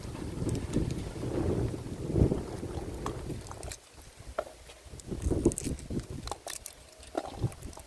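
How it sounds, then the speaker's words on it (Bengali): Strong gusty wind blowing outdoors, roaring and buffeting the microphone in uneven surges, with a brief lull midway before the rushing resumes. "বাতাস বইছে, পুরো যেন ঝড় হচ্ছে।"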